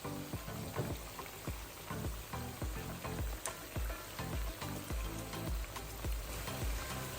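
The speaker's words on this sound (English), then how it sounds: "we're going to be leaving them to fry on one side until they are golden brown" Oil sizzles and crackles steadily as saltfish fritters fry, with dense popping spatters throughout and no talking.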